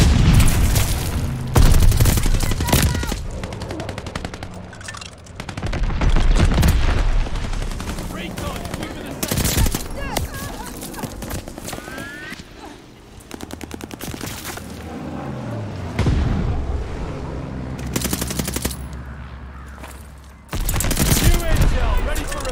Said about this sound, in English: Allies called a bombing run. Incoming.